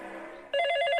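A cartoon telephone starts ringing suddenly after a soft tone, giving a bright, electronic trill that keeps up loud and steady.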